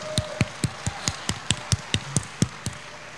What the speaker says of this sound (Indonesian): Kita yang menerima berkat pemulihan boleh tepuk tangan yang besar, tepuk tangan yang besar.